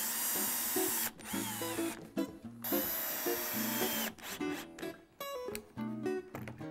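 A power drill drives screws into southern pine chair braces, its loud, close whine rising and stopping in repeated bursts of about a second or two, with short gaps between runs.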